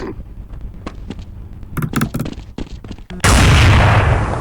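Gunfire in a PC shooter video game arrives as several sharp, quick shots in short clusters, followed by a sudden loud, sustained burst of noise like heavy automatic fire or an explosion.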